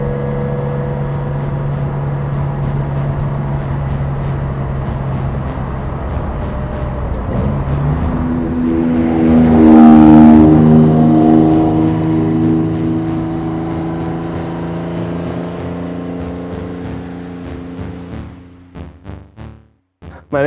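An air-cooled 1987 Porsche 911 3.2 Carrera drives past with a tonal engine note that climbs and swells to a loud peak midway, then fades as it pulls away, ending in a few brief crackles.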